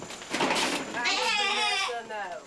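Sheep on a rural range bleat in wavering, quavering cries, one long bleat following a short earlier call, fairly close and clear over faint background noise.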